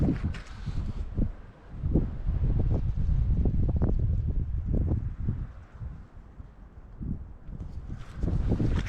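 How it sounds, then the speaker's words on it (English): Strong wind gusts sweep through a clear-felled forest in Scotland, a loud, buffeting roar with repeated bursts and rumbling microphone noise. "The wind is blowing through here strong, like, because all these trees have been clear felled now."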